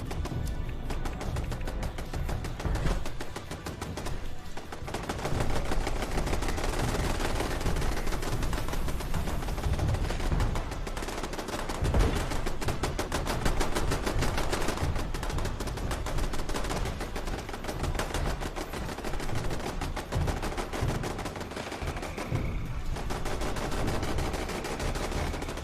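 Dense, continuous automatic gunfire from turrets in Fallout 76, rapid machine-gun bursts overlapping into a loud, sustained fusillade with no pauses across the whole stretch.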